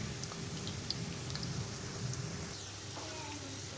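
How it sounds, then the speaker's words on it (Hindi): May rain in Murree falls steadily in a dense, even hiss, with a low rumble of thunder underneath. "अभी भी बारिश जो है हो रही है, बादल गरज रहे हैं"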